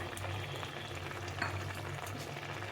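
Poppy seed paste simmers in a pan while being stirred, with a dense, steady bubbling sizzle and faint scraping throughout a short stretch, with no voices.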